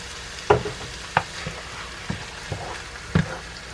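Crushed tomatoes being stirred into a one-pot Cajun jambalaya: a handful of scattered spoon scrapes and soft knocks against the pot over a faint background sizzle, with no talking.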